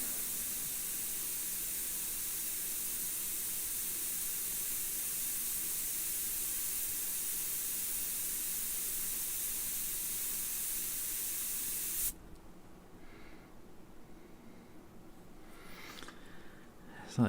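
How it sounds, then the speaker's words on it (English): An airbrush sprays paint in a steady, loud, close hiss that runs unbroken for about twelve seconds and then cuts off, leaving a quiet room with faint handling sounds. "ASMR airbrushing"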